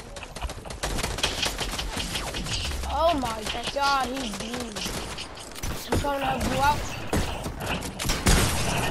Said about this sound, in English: You're the one using a P90.